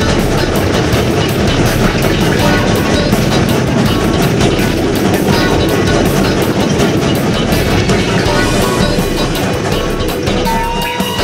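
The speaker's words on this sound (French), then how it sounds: "C'est un train à vapeur!" A steam train runs close by in a continuous loud roar of rumbling wheels and rhythmic rail clatter, steady throughout with a brief high whistle-like tone near the end.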